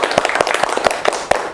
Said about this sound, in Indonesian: tepuk tangan dulu untuk kita semua ya